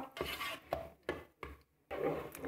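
Cream carbonara sauce is stirred in a Moulinex 12-in-1 multicooker pot, making soft, rhythmic scraping strokes, about five sweeps in a row, faint and close, with no voices.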